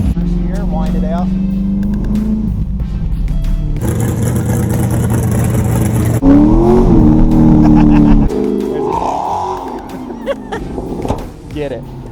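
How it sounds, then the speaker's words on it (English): A Chevrolet Corvette C5 engine revs up hard in first gear, its pitch climbing steadily, close and loud, with a steady rumble carrying through the rest of the run. "First gear, wind it out."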